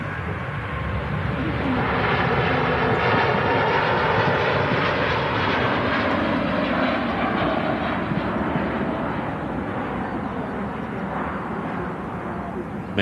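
A Singapore Airlines A350-900 departs, its jet engines building to a loud, sustained roar that rises and slowly fades as it climbs away, with a faint voice underneath.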